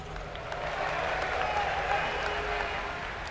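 A crowd at an esports tournament cheers and applauds steadily, a broad continuous wash of clapping and voices in a large venue.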